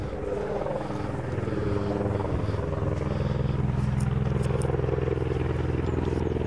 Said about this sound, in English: Emergency planes coming out, helicopters coming over, mate.